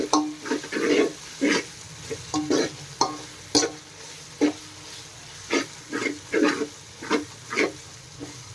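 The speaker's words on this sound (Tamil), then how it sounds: "இஞ்சி பூண்டு நல்லா வதங்கிடுச்சு" Ginger and garlic sautéing in a pan of vegetable rice, a soft background sizzle broken by repeated scraping stirs of a spoon at a steady, uneven rhythm, close up and without speech.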